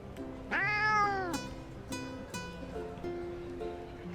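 A cat meows loudly in the video game Love and Deepspace, one long, clear, drawn-out cry followed by a few shorter, softer meows with faint background sounds.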